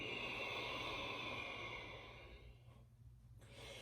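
A long, soft exhalation during a yoga class, a faint breathy hiss that tapers off and then falls to near silence, heard close over a low room hum with no talking.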